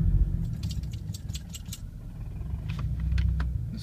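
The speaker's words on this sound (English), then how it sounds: "And we'll also start the car." Keys jangle and click near the ignition of a Scion FR-S fitted with an Innovate supercharger kit, 70mm pulley, intercooler and full exhaust, over a low engine rumble that swells toward the end.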